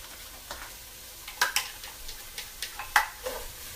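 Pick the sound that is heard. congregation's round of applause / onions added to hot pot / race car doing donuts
onions added to hot pot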